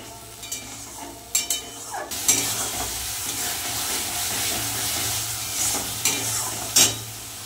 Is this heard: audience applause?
no